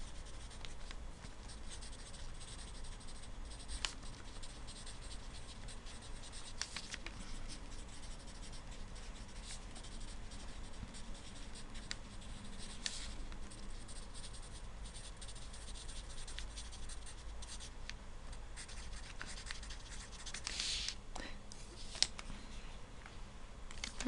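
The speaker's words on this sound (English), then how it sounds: "Let me write that down." Pen or pencil scratches and taps across paper during a lecture on graphs of functions, close and quiet, in short irregular strokes that continue steadily throughout with no talking.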